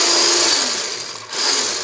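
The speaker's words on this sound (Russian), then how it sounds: "Немного взбила яйца, теперь буду постепенно всыпать сахар и взбивать." An electric mixer whisks eggs with sugar for a quick Easter kulich batter, a steady high whine that dips briefly in pitch and volume before picking back up.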